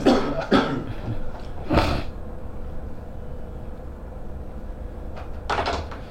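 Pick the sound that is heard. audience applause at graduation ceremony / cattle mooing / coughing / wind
coughing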